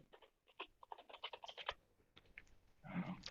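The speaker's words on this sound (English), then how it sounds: "Are you actually typing it?" Rapid bursts of typing on a computer keyboard, close and crisp, with uneven clusters of key clicks followed by a brief pause and a louder clatter near the end.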